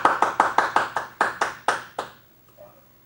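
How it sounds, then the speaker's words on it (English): A single pair of hands claps about ten times in an even, brisk rhythm, close and clear, slowing slightly before stopping, as an applause sound effect on a talk show. "I have applause that comes in"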